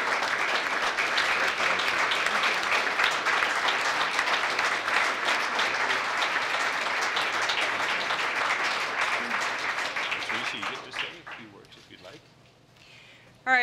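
An audience at a police award ceremony claps loudly and continuously for about ten seconds before the applause thins out and fades, with faint voices underneath.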